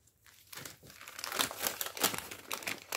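Paper being folded for a Tadashi Mori darkness origami dragon, producing close, continuous crinkling and creasing with a few sharper crackles, growing louder after a quiet start.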